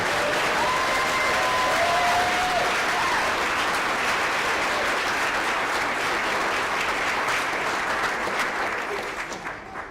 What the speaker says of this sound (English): let's give Janet a round of applause and thank you